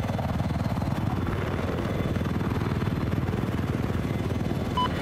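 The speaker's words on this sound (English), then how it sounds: "I spotted an enemy helicopter." An enemy attack helicopter in Battlefield 4 drones steadily with a dense, low rotor thrum that holds at an even loudness throughout, with no talk over it.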